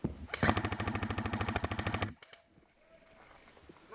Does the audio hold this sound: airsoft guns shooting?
yes